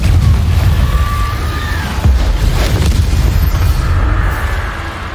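The Confringo fire spell explodes in Hogwarts Legacy with a heavy boom followed by crackling rumble and a second burst, loud and close.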